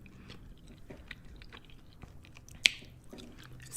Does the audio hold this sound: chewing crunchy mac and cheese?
yes